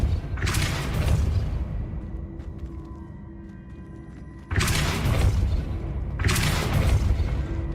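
The Depulso spell is cast in the Hogwarts Legacy video game, producing booming, explosive bursts. Three loud blasts, each about a second or two long, are separated by a quieter, rumbling lull.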